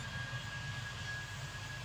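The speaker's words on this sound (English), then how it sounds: "Oh, I hear planes" A faint, steady low roar of jet aircraft near Glasgow Airport, heard distantly from inside a Class 380 train as a continuous rumble with a thin high whine.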